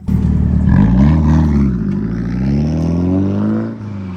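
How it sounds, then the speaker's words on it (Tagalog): A car engine revs hard and roars close by, its pitch climbing and dropping as the car drifts on the Fuji Speedway track in Japan. "Kaya pala maingay yung mga sasakyan na nandito kasi dito sila nagdi-drift."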